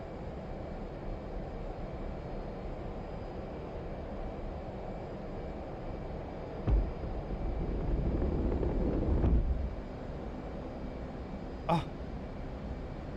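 Jet engine roaring at full power in the DCS flight simulator game, a steady broadband rumble that swells louder for a few seconds midway, then settles back.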